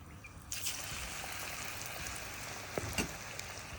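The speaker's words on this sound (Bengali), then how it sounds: "তো এবার আমি ভেজে নেব কাবাবটা" Breaded egg kebab frying in hot oil, a steady soft sizzle and crackle with a few sharper pops, close and continuous.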